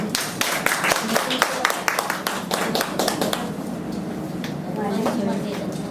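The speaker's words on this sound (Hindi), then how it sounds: "उनका तालियों से स्वागत करते हैं" A congregation claps to welcome the pastor at a New Year church gathering, a lively round of many hands that thins out partway through while voices murmur underneath.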